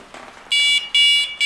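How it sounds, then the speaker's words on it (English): An MK1 R-Plus Compact remote bite alarm sounds its range test tone: three loud, high-pitched electronic beeps in quick succession, each a steady piercing tone, with faint handling noise before. "it will always give you a high pitch tone"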